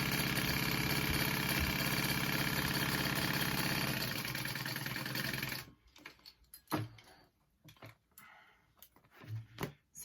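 A sewing machine stitching the top of a shoulder bag runs as a loud, steady, close mechanical whir for about five seconds, then stops, followed by scattered handling clunks and rustles of fabric.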